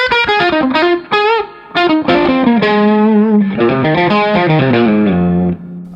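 Electric guitar on the bridge pickup through the Tubedreamer side of a JAM Pedals Double Dreamer overdrive, strummed chords and single notes ringing out with a warm, gritty drive, played alone and close with short pauses between phrases.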